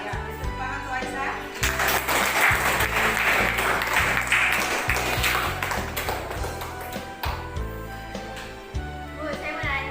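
Classmates clap for a student in an Indonesian classroom lesson, a scattered round of hand claps rising in the middle and fading, heard under a teacher's voice and background chatter.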